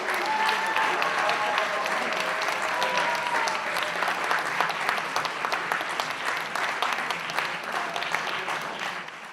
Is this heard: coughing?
no